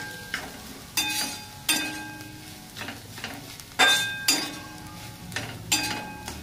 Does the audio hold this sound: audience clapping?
no